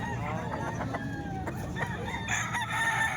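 Chickens cluck and call over steady outdoor background noise, with roosters crowing among the flock, moderately close.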